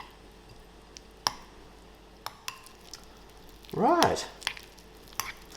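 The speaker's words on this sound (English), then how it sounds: "And now we just need to mix this all together." Cheese mixture with drops of food colouring stirred together in a bowl, scattered soft clicks and taps ending in one brief squelching stir burst, close and quiet, with a short spoken word.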